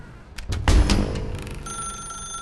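Telephone ringing in The Stanley Parable: a couple of thuds and knocks give way to a bright electronic ring that sustains steadily and loud near the end, with no voices over it.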